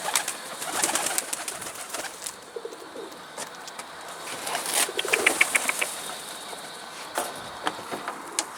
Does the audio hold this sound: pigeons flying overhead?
yes